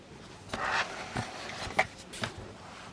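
Alcohol markers stroke across paper while someone fills in a mandala colour-by-number, making soft, close rubbing swishes in an irregular sequence of about five strokes, with no talking.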